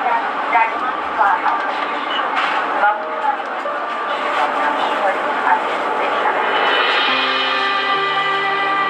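A Tehran metro subway train rumbles loudly and steadily through the tunnel, a broad roar with rising whine and squealing wheel tones near the end, a voice faintly under the noise.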